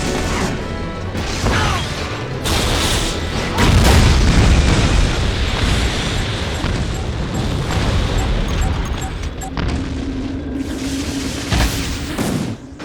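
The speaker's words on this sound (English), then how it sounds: "I wonder what's gonna happen if I shoot the supernova." A supernova weapon shot in Jak 3 sets off a loud, sustained booming crash with mechanical clatter that fills the whole stretch, followed by a lingering hum.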